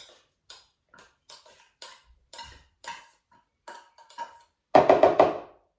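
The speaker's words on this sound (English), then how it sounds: "So now we're going to carefully pop in our 2 tins of tuna, like so." Two tins of tuna tipped into a mixing bowl holding chopped red onion, with a series of light clinks and scrapes of metal against the bowl, then a louder burst of clattering and squelching at the end.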